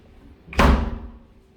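A hotel closet door at the ARIA in Las Vegas gives one solid knock-like thud as it closes, decaying quickly in a quiet room.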